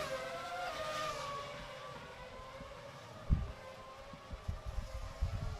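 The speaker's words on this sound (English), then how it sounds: "that little V10 sound is always very nice." V10 race cars driving by in a Second Life racing game, a faint distant engine whine that fades, followed by a few soft thumps near the end.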